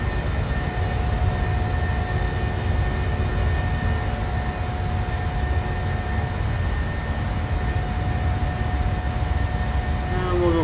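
PMDG 737-700 jet departing in Microsoft Flight Simulator: a continuous low engine roar with a steady whine held above it, unchanging and loud for the full length, no talking.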